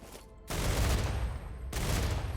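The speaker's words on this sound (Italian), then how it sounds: "Così, per prova, ci andiamo a sparare due bombe." A newly unlocked weapon in the video game StarRupture is test-fired as two heavy, booming bursts. Each one is a loud, sustained blast that starts abruptly, with a short lull between them.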